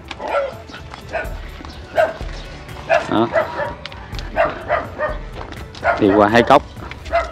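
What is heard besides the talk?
dog barking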